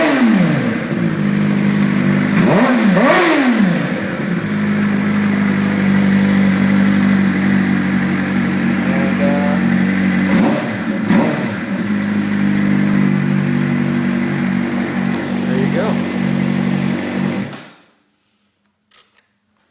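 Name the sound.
2011 Suzuki GSX-R 600 motorcycle revving with Arrow GP2 exhaust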